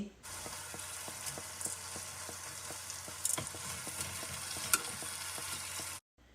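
Prawns cook in a masala gravy over medium heat, giving a steady, moderate sizzle with faint bubbling and a few soft clicks, then cutting off abruptly near the end.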